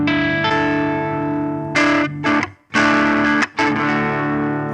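Electric guitar played through a BOSS GT1000 amp and cabinet simulation into a Mackie mixer, with sustained distorted chords broken by short choppy stops and restarts, loud and close with no talking.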